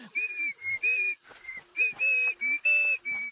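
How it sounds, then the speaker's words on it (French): A cartoon character from Jimmy L'Intrépide whistles a string of clear, high, wavering notes in short choppy bursts, each note separated by brief pauses, close and alone over faint vocal sounds. "maintenant, ça y est, je sais siffler!"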